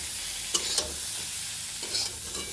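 Ground spices (salt, turmeric, chilli, cumin, coriander) sizzling in a pan for egg paneer curry, a quiet continuous fry with two or three sharp scrapes of a stirring spoon, close up and with no voices.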